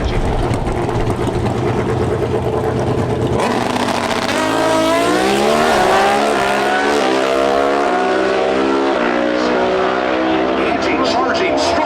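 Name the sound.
Pro Stock drag racing motorcycles at NHRA Route 66 Nationals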